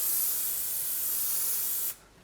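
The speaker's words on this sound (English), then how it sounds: "spraying 10 centimeters away, so I get a lovely web spray pattern" TensorGrip 701 general-purpose aerosol adhesive sprayed from about 10 centimeters in a web pattern, one continuous close, bright hiss lasting nearly two seconds before cutting off abruptly.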